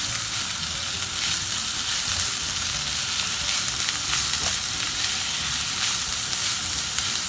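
Spring onions and potatoes stir-fry in a pan, a loud, constant sizzle with occasional scraping and stirring noises as they are mixed, no voices.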